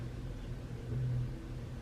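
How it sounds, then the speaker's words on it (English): A car engine revving outside a window comes through as a faint, low, steady rumble that swells slightly in the middle, with no voices. "someone is revving their car outside"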